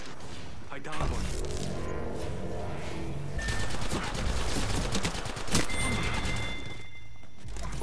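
Bursts of rapid gunfire crackle through a video game firefight, with dense clattering shots, several sharp louder cracks and a mix of mechanical noises.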